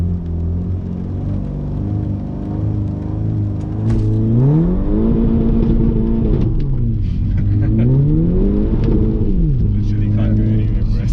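A VW MK6 Golf GTI launches with launch control from a 3,000 RPM hold, the engine droning loud and steady before climbing in rising rev sweeps through gear changes, with people talking over it.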